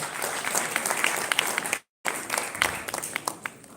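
Dinner guests at an executive business dinner applaud an introduced director with moderate, scattered clapping, broken by a brief complete cutout midway before resuming.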